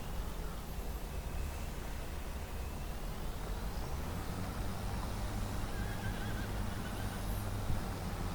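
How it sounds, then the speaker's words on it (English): Horses whinny and neigh in the video game Farming Simulator 25 against a constant hiss of background noise, with faint hoof clopping mixed in. "You can hear those horses whinnying"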